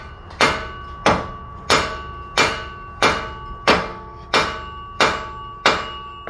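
Nine sharp metallic hammer blows strike a tie rod end on a Chevy Avalanche at a steady, unhurried pace, each ringing briefly before the next; close and loud with no talking.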